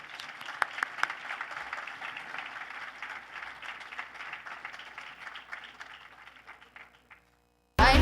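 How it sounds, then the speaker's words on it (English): An audience at a Black History Month opening ceremony claps to welcome a guest speaker to the stage, applause moderately loud and gradually fading before music suddenly starts. "With a round of applause, please help me welcome Dr."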